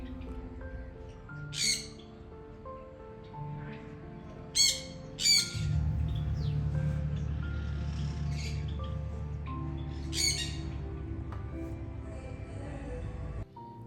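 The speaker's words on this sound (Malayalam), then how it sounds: "അവിടെ നിന്നുള്ള ശബ്ദം എപ്പോഴും ആ കിളികളുടെ ശബ്ദം ഉണ്ടാവും" Birds from a backyard aviary near a kitchen, squawking and chirping in short scattered bursts over a steady low hum of household background noise.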